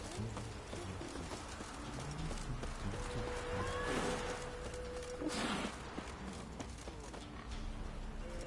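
Roach the horse gallops in the video game Witcher 3, a fairly faint, steady clip-clop of hooves running throughout with some ambient game sounds.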